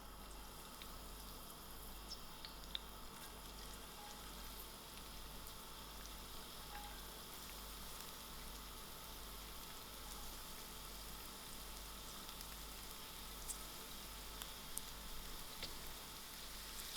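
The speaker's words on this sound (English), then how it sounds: "To my oil, I'm going to add in my onions." Onions frying in a quarter cup of oil in a pot over moderate heat, a steady, even sizzle and crackle that continues unbroken throughout at a moderate level.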